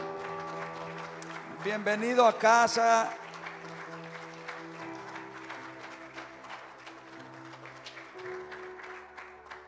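Sustained applause from a church congregation welcoming a visiting apostle from Brazil, a steady moderate wash of clapping that runs throughout, with a voice speaking briefly over it near the start.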